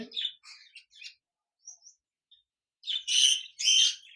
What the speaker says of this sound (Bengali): ডায়মন্ড বুক পাখি রয়েছে।